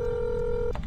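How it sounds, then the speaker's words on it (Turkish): A single steady telephone dial tone from a phone calling 112 in the Accident driving game holds for most of a second, then cuts off with a brief click, near and clear. "112'yi arıyoruz."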